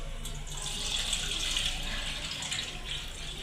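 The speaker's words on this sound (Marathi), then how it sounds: "तांदूळ धुवून घेतले स्वच्छ" Tap water runs steadily into a vessel of rice being washed in a home kitchen while making chicken dum biryani, a constant close splashing hiss with no voices.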